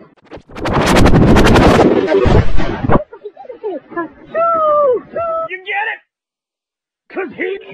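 A loud, close burst of video game rocket explosion fire crackles for a couple of seconds, followed by talk and a short sound effect.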